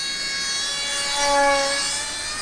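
An F-22 Raptor RC model plane flies past, its steady jet-like whine swelling briefly as it draws nearer, then easing off, with no voices.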